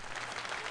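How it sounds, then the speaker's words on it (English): A brief burst of crowd applause in the game BattleBlock Theater, a faint, dense patter of many clapping hands with no pause. "Stop applauding."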